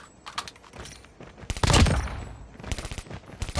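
SMG fire in the mobile shooter Call of Duty Mobile during a damage check: rapid bursts of automatic gunshots ring out close and loud, with a heavier burst in the middle and short gaps between volleys.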